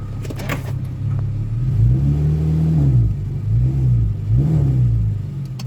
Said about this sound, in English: Let me power brake it and see what happens.